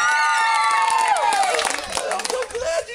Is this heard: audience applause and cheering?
yes